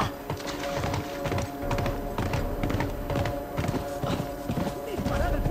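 Horse hooves galloping in the video game The Last of Us, a continuous rapid clip-clop of heavy hoofbeats under a dense background of game sound and voices.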